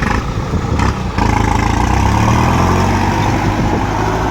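A farm tractor fitted with a front-mounted rice seed spreader chugs loudly and steadily nearby, a rough low throb with a brief dip near the start before settling into constant running.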